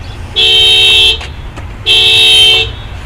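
Two long, loud car horn blasts, each just under a second, separated by a brief pause, rising over a low steady rumble of road traffic.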